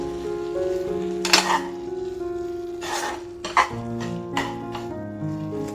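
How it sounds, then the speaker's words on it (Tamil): Beetroot halwa stirred in a pan: scraping spoon strokes and soft sizzling come in bursts over a steady tonal background hum. "நல்லா மிக்ஸ் பண்ணி விட்டுக்கோங்க"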